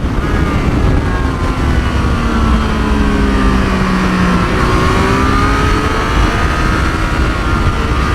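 A 2024 Triumph Street Triple 765 RS motorcycle engine at wide open throttle roars loud and close without a break, its pitch sweeping upward as it pulls hard, with steady wind rush underneath.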